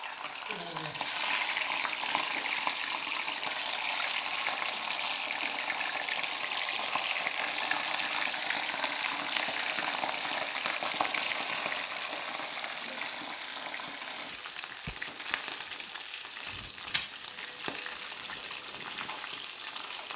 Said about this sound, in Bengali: এখন আমি ইলিশ মাছ আর আলুগুলা তেলে ফ্রাই করে নেব।